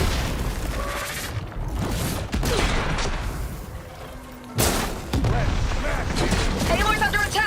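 Gunfire and heavy booms from a Horizon Forbidden West battle sound almost without pause over a mechanical din. Game characters shout over the shooting.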